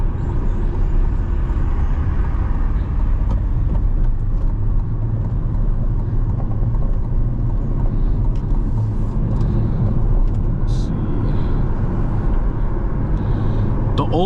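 A C8 Corvette cruises along a road in Palm Beach, with a steady loud engine drone and tire roar filling the cabin throughout, unbroken and close.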